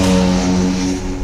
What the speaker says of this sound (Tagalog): This is a machine built from Honda's MotoGP bikes but adapted for street use